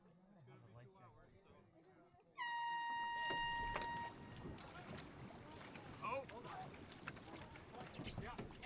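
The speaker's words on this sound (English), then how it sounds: "The horn off the start here was a bit of a surprise to us and a couple other boats" A loud air horn blasts once for about two seconds to start a canoe race at the Canton Canoe Weekend, then gives way to water noise and nearby voices talking.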